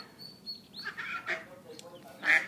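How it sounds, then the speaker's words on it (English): A little duck near a jacuzzi among baby chicks gives several short honking quacks, close and fairly loud, spaced irregularly, with the last call the strongest. "This is one little duck right here."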